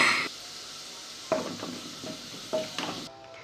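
A Saidi fried base sizzles in Dutch ghee in a pan, with a steady hiss broken by several scraping and clinking strokes of a spoon as it is stirred, then a brief cut-off at the end.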